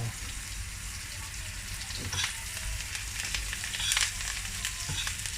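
Garlic frying in oil in a home frying pan for steak gives a steady, close, broadband sizzle with a few brief louder crackles and no talking.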